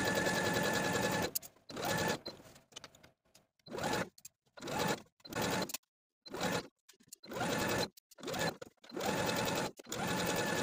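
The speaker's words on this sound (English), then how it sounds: "pivoting your stitching to sew all the way around the neckline" A sewing machine stitches around a dress neckline in a series of about nine close, steady motor runs, each one to two seconds long. Short pauses between the runs mark the pivots, and no voices are heard.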